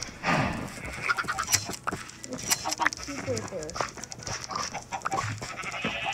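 Sheep in a video game, including color-changing sheep, bleating in short scattered calls among other game noises while a voice talks over them.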